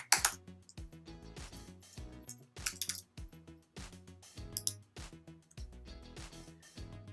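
Irregular clicking of keys on a computer keyboard, quiet and close, in short bursts of taps with brief pauses.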